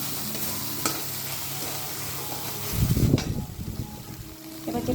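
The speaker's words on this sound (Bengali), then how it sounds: "ভালো মিশিয়ে নেব।" Khoira fish being stirred in a pan with salt, turmeric and Kashmiri chili powder, a soft sizzle running under scraping spoon strokes that grow louder and busier partway through.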